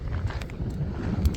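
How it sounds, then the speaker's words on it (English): Wind gusting across a desert winter camp site where a truck is parked, a steady low rumble and buffeting on the microphone, continuous and fairly close, with brief higher hiss bursts. "It is kind of windy at this location"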